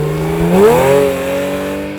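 The hand-built engine of a Porsche 911 GTS revs hard toward its 7,300 RPM redline, the loud howling tone sweeping upward, then holding high and steady as the car accelerates close by.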